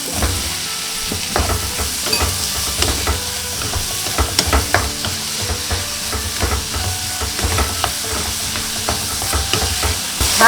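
Fish cake being stirred into doenjang frying with onion in a pan, with constant loud sizzling and repeated scraping, knocking stir strokes against the pan. No voices are heard.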